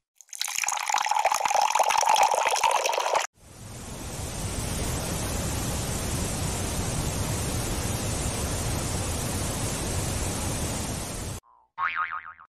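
A steady rush of running water fills most of the stretch, broad and even like a pouring stream, after a short burst of a brighter sound.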